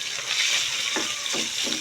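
Tilapia fries in oil in a pan, a steady soft hissing sizzle with occasional spattering pops, close but fairly quiet, with no voices.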